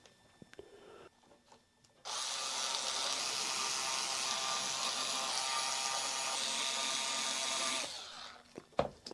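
A power driver runs screws into a Solar T27FBB electric guitar during a neck pickup delete mod, one steady whirring burst of about six seconds after brief quiet handling noises, close and fairly loud.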